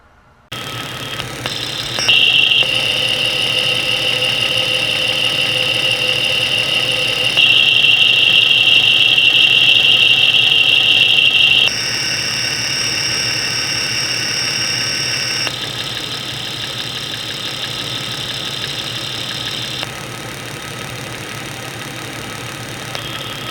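A car engine idles with the hood open while a noise is diagnosed, a steady running drone carrying a persistent high-pitched squeal that shifts in pitch and intensity across several segments, with no talking.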